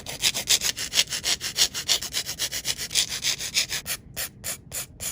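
Polygel nail tips being filed and reshaped, a steady back-and-forth rasping of quick, even strokes that stays close and fairly loud, with a few short pauses between strokes near the end.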